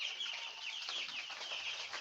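Young broiler chicks, ten days old, chirp constantly in a dense, high overlapping chorus close by, with no talk.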